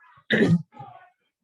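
A single harsh cough followed by a softer throat clear from a person with a lingering post-Omicron cough, close and clear against silence.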